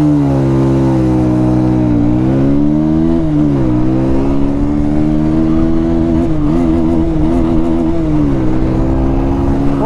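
A Yamaha R15M and a Bajaj Pulsar 220 drag race, their engines droning loud and close in a steady sustained roar, with pitch rising and dipping through gear changes.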